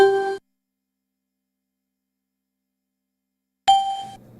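Two Windows for Workgroups 3.11 system sounds, the chimes and the ding, play as short bright metallic tones separated by about three seconds of complete silence.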